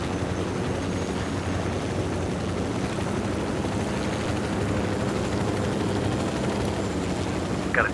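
Video game helicopter in Ghost Recon Wildlands: steady, dense rumble with rapid chopping blades and mechanical roar, continuous and loud throughout, with gunfire-like crackle mixed in.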